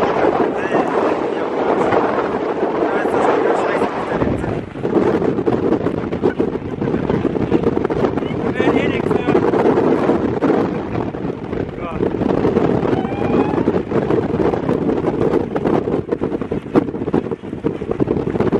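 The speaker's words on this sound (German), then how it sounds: "Also die Passage hier ist jetzt ultra windig" Strong, steady wind on a mountain pass in Patagonia roars and buffets the microphone throughout, with a voice speaking German beneath the rushing gusts.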